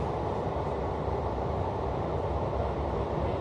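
An SNCF Line J train, a BB27300 locomotive hauling VB2N coaches, rumbles past with a steady, dense roar of wheels and motor, loud and sustained without pause.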